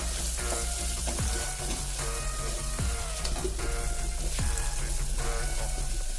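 Steady, dense sizzling of a ground paste frying in a hot pan, with occasional soft scraping stirs, continuous and close throughout.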